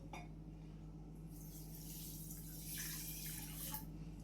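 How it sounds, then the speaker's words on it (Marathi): Water pours steadily into about half a kilo of sugar in a pan for syrup, a continuous close splashing stream over a low constant hum. "एवढं साखर बुडेल एवढं पाणी घालायचं"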